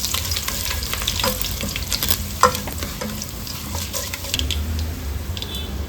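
Curry leaves and dried red chilies sputter in hot oil as the tempering for a raw mango rasam, a steady close sizzle with sharp crackles and pops.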